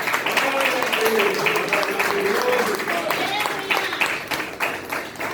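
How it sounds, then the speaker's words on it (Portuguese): A church congregation claps together during a worship service, a dense, steady wash of applause that carries through the whole stretch, with voices and singing mixed in over it. "E assim, aplauda Jesus."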